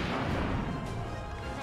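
Gunfire in the PS2 survival-horror game Resident Evil Outbreak, a dense, booming blast that fills the short moment loudly with no talk.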